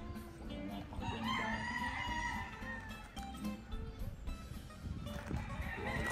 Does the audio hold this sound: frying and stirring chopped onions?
no